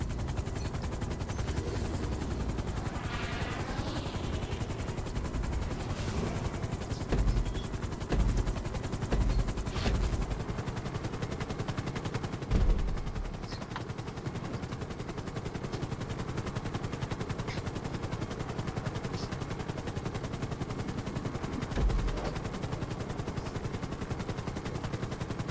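An attack helicopter in a video game flies with a constant rotor and engine drone while bursts of rapid gunfire and heavier shots punctuate it, loud and continuous throughout.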